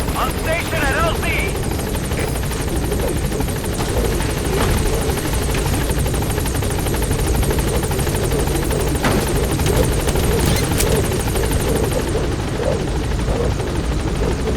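The Pequod helicopter in Metal Gear Solid V arrives at a landing zone. Its rotors chop in a loud, continuous thrum, with faint radio-style voices and brief game effects layered over the steady drone.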